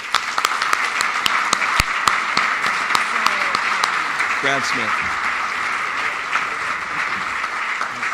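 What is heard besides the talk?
audience applause at awards ceremony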